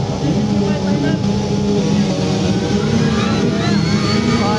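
65cc motocross bikes race in the final heat of the Talaba Motocross Competition in the Philippines, their engines buzzing and revving from mid-distance with rising and falling whines.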